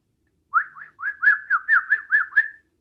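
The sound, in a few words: whistle imitating birds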